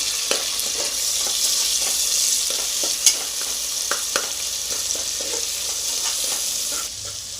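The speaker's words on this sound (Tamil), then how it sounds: "இப்போ தக்காளி நல்லா வதங்கிடுச்சு." Tomato and onions fry in a pot for a home-style nombu kanji, giving a steady close sizzle with scraping stir strokes and occasional sharp clinks of a spoon against the metal.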